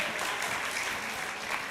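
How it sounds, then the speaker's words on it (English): Audience applause at a live book conversation event, a soft, steady wash of clapping heard at moderate distance. "You should just open your arms wide and soak in all the applause."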